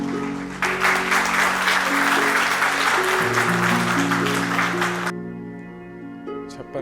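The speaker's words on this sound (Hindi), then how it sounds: "जोरदार तालियों के साथ स्वागत करें।" An audience at an Engineers' Day function applauds to welcome a government secretary to the stage, dense steady clapping over a low background hum, ending into quieter room noise.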